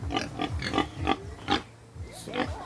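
Several pigs at a piggery beside a landfill grunt and oink in short, close, repeated bursts, with squeals and snorts mixed in and a faint voice in the background.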